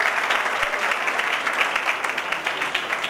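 Steady applause from a sizable audience, continuous dense clapping throughout, moderately loud with no talking.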